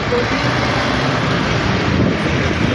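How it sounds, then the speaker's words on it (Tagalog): Strong wind blowing outdoors with a little rain, a steady, loud, broadband rush buffeting close to the microphone for the whole stretch without letup. "Mahangin at medyo may ulan ng konti."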